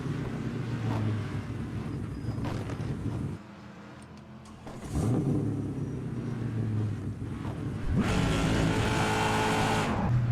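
A race car driving in the rain in the rFactor 2 racing sim, a Formula E practice run: a steady whine of the electric drivetrain with hiss of wet spray, dropping out briefly midway before surging back louder.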